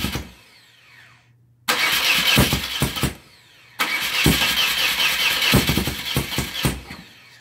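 A 1992 BMW R100R motorcycle engine is kicked over, catching with abrupt bursts of loud, rough revving that cut out, then fire again and run unevenly with sharp throttle blips.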